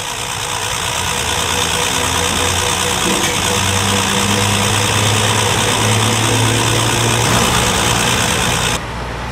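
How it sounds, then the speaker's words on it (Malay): A car engine idles with a steady, even hum and low rumble, continuous throughout without revving, loud and close. "memastikan enjin kenderaan anda berjalan dengan lancar dan licin"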